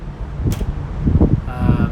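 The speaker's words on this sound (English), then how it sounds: "It's very windy" Gusty wind buffets the microphone outdoors, a steady low rumble swelling and easing, with a brief sharp hiss partway through.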